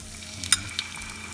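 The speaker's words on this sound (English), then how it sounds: "now to this we're going to add the salsa" Salsa goes into a pan of sizzling chorizo for chorizo and eggs, a short splash and stir over a steady frying hiss, close and moderately loud.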